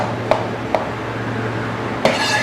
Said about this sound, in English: I'll just give it a nice coarse chop